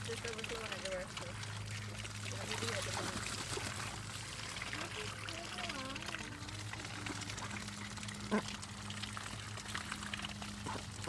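Water overflowing from a container at a duck-breeding farm: a steady trickling, splashing pour runs continuously at moderate volume, with indistinct voices in the background.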